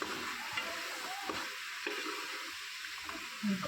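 Potato and drumstick pieces sauté in a pan, giving a soft continuous sizzle with occasional stirring scrapes and a light knock near the end, close but fairly quiet.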